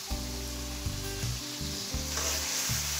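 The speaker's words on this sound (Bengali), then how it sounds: "মশলাটাকে এখন আমি ভালো করে নেড়ে মিক্স করে নিচ্ছি।" Ground coriander, cumin and mixed spices sizzle loudly in hot oil in a pan for a bottle gourd curry, with steady frying hiss and repeated scraping stirs of a spoon, no voices.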